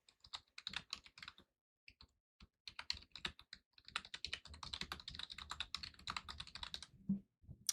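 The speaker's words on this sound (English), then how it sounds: "I love the sound of my keyboard." Rapid clacking keystrokes on a computer keyboard, typed in quick bursts with brief pauses, close and fairly quiet, with no talking.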